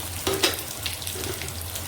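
Pieces of rohu fish sizzle steadily in hot oil with salt and turmeric, a close, continuous crackle with a few brief clinks of stirring.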